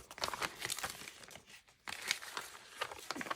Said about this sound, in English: a miscellaneous plastic bag.